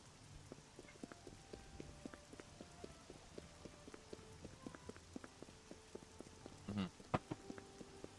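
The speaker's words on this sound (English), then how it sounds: "It's raining." Rain patters steadily in the video game Oblivion with scattered droplet ticks, a soft continuous wash of rainfall, fairly quiet, with a brief thump near the end.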